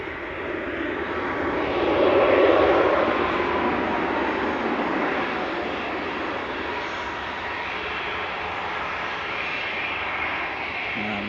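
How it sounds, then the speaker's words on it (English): Ryanair jet touching down at Manchester Airport from Cologne, a sustained engine roar that swells early then settles into a steady rushing drone, with no voices. "Ryanair just touching down from Cologne."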